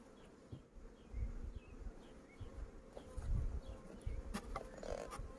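Honeybees buzz steadily around an open traditional log or box hive (karakovan) during a hive inspection, a dense swarm hum close by with some louder passes near the end.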